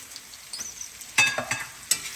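Mixed vegetables with peas and freshly added cabbage being stirred in a pan for vegetable pulao: soft sizzling with a few sharp scraping stirs and spoon knocks, close and fairly quiet, with no talking.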